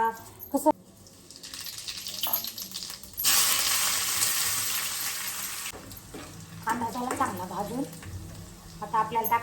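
A loud burst of sizzling as green chillies hit hot oil, crackling strongly for a few seconds, then fading under a voice.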